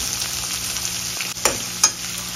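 Onion dropped into hot oil already holding cumin, asafoetida, curry leaves and garlic for a tadka, giving a loud steady sizzle with a couple of sharp bursts as it hits and is stirred.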